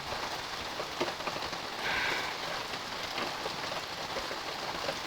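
Steady rain falls outdoors in autumn, a dense hiss of drops pattering on surfaces, continuous and close with no voices.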